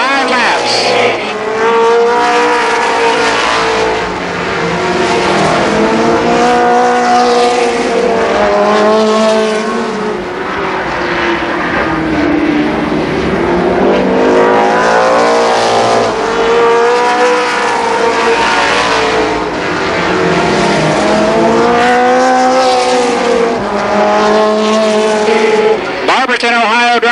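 Race cars roar continuously around Columbus Motor Speedway during a 1991 main event, engines rising and falling as they circle, under a loud announcer calling positions.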